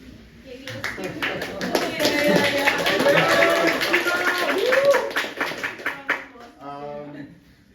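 Audience at a conference talk clapping steadily for several seconds, the applause swelling and then thinning out, with a voice speaking over it near the end.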